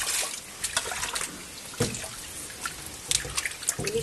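Water splashing and trickling while hilsa fish are washed in a home kitchen, a steady wet running sound with a few louder sloshes, close by and without talk.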